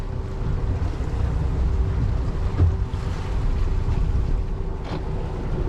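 A fishing boat turning on open water off the Florida Keys: a steady engine drone under heavy wind buffeting and wave wash, continuous and close throughout.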